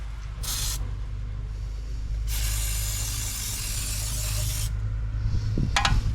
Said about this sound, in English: Rust check. Spraying this on most everything.